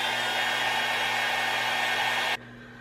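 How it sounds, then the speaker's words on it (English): A small heat gun blows steadily and loudly while drying paint on a cheesecloth-covered Christmas ornament, a constant whooshing roar with a faint hum that cuts off abruptly near the end, leaving quiet residual noise. "I'm just using my little heat gun to help the drying process."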